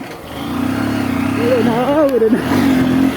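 A motorcycle engine hums steadily during a short ride, with a low, continuous drone that rises slightly as the bike accelerates, heard close and fairly loud while a voice speaks over it.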